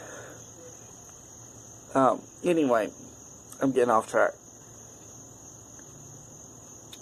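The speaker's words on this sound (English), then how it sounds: "Actually, no, those are frogs." Frogs call outdoors at night in a steady, continuous chorus that runs through the whole stretch, with a person talking briefly over it in the middle.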